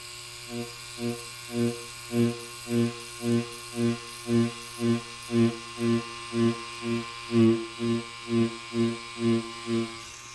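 A tattoo machine shades with gray ink, making a close electric buzz that pulses in even bursts about twice a second over a low steady hum. Nobody speaks.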